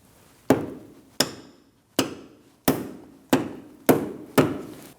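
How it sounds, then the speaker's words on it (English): A hammer strikes a triple square bolt to tap it out of a 2009-2017 Audi Q5 front lower control arm: seven sharp metallic blows, evenly spaced about two-thirds of a second apart, each ringing briefly before fading. "when tapping out our triple square bolt, it will make contact with the boot"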